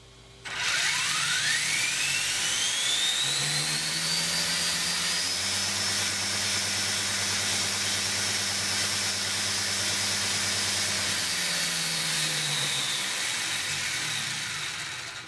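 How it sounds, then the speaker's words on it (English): An RC car runs a quick test pull on a dyno, its motor whine rising steeply to a loud, sustained high-pitched scream that holds steady for several seconds before easing off slightly, close and continuous, with no voices. "We're just going to do a little quick test pull here. And the dyno's moving."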